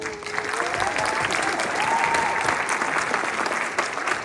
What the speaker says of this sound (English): So Jesse Brandon from Bismarck, a round of applause.